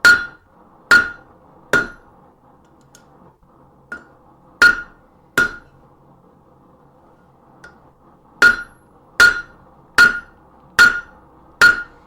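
A hammer strikes a stainless steel fork being forged on an anvil, sharp ringing metallic blows that come singly and in short runs with pauses between them, loud and close.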